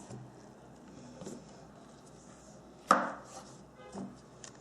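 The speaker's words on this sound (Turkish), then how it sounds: "Burada mantarlarımız var biliyorsunuz. Bunları da ortadan ikiye kesip ilave edeceğiz." A kitchen knife cuts mushrooms in half with a few soft, close chops on a board, one sharper thud standing out among quiet background, with no talking.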